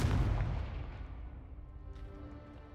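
A Confringo fire spell from Hogwarts Legacy bursts in a single loud, close explosion that decays into a long fading rumble.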